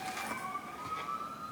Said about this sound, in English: Well, it's the ambulance, but they're from the fire station right across the street from me.